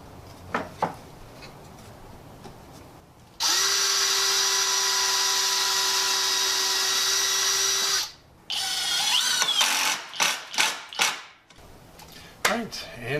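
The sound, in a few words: drilling pilot holes and driving screws into 2x4s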